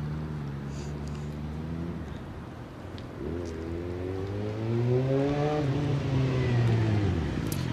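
A Suzuki GSX-R750 motorcycle approaches, its engine note rising and shifting pitch as it revs and draws nearer, growing louder toward the end.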